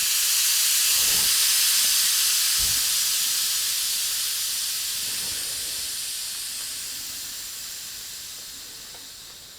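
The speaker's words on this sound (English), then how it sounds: "I'm going to show you how to let the inner tube down if it's only partially down at the moment." Air hisses steadily out of a bicycle inner tube valve, a bright continuous close-up hiss that slowly fades over several seconds, with a few faint soft knocks early on.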